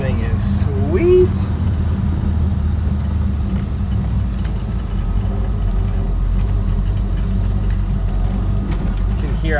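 A 1967 Plymouth Barracuda rolling down a block, its engine a steady low rumble from inside the car with a few brief knocks as it goes over a bump.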